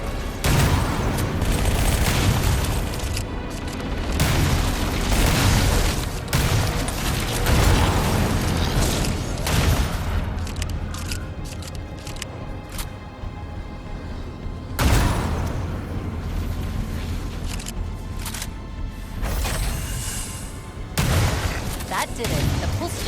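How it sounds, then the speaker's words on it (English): A pulse generator in the Halo video game overloads and blows apart in a dense run of loud explosions, rumbling booms and crackling bursts, sustained and heavy throughout with a renewed surge partway through. "The pulse generator overloaded."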